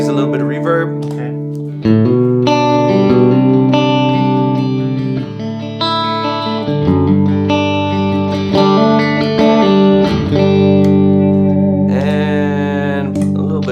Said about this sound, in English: Here's a little bit of reverb.